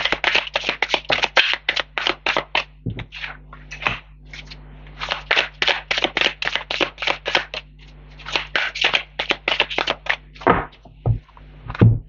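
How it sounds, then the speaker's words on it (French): Tarot cards being handled, shuffled and laid down to cover a three-card spread: a steady run of crisp card flicks and soft slaps in quick bursts, close and fairly loud, with brief pauses and no talking. "Je vais recouvrir les trois cartes."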